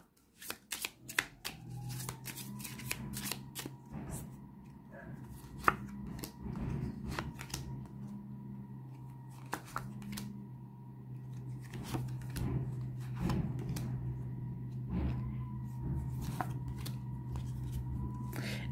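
Thick oracle cards being shuffled by hand, a run of quick riffling slaps and flicks repeating in bursts at close range, with a low background hum and no speech.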